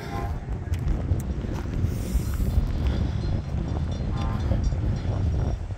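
An Amtrak passenger train rumbles past a historic rail depot in Pesotum, a low continuous roar of wheels and cars with wind buffeting the microphone.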